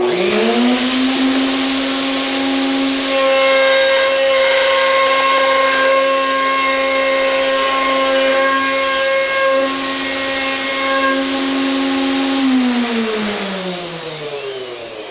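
A Matchmaker tenoning machine cutting a tenon: a loud, close motor whine spins up, holds steady through the cut with slight shifts in tone, then winds down at the end, with no talking.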